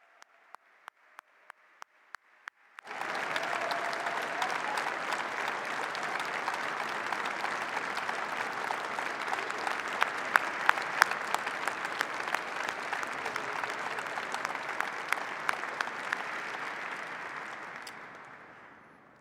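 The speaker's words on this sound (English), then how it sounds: "a round of applause for our sheriff" Sustained applause from an audience at the swearing-in ceremony of San Francisco Sheriff Paul Miyamoto, rising after a few sharp early claps into steady, dense clapping that holds for about fifteen seconds before tapering off.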